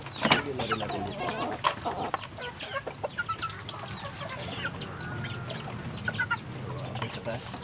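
Pet chickens being fed cluck and chatter in a busy flock, with steady soft clucks and occasional louder calls close by, under some quiet speech.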